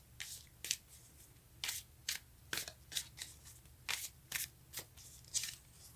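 Tarot cards being shuffled for a reading, heard as a quick series of crisp riffling bursts, about ten in six seconds, close and fairly quiet with no voice over them.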